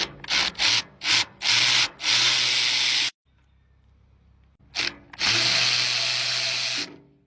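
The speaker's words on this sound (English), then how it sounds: "Socket rails and the insider ratchet should be enough." Socket ratchet turning fasteners on a broken military generator, heard up close as several short bursts of rapid scraping clicks followed by two longer sustained runs, with a brief quiet pause between them and no talking.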